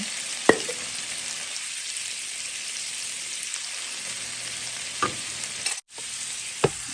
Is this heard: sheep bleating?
no